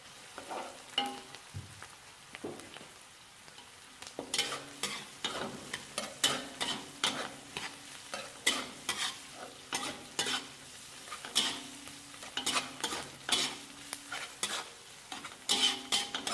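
Pork is stir-fried in a wok for fried rice, with a fast, busy run of metal spatula scrapes and clatters over a continuous sizzle, close up and without talk.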